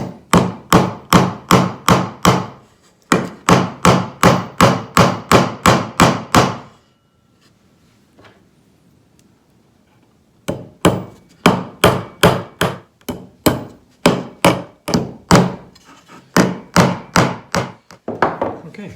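Steady hammer blows drive pins into wood in rapid, even runs, loud and close, with a quiet pause in the middle before the hammering resumes.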